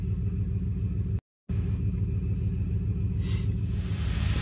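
A 2003 Dodge Ram 1500 5.7L Hemi pickup truck engine idles close by, a steady low rumble with one brief dropout partway through and a faint hiss near the end.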